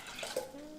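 Tea-infused water pours into a blender jar in a short, faint splash, with a light liquid trickle that tails off quickly.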